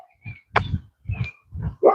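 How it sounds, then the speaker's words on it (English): Neighbor's dogs barking outdoors in the morning in short bursts, four or five barks spaced about half a second apart, moderately loud with a higher yip at the end. "Neighbor's pups are out barking this morning."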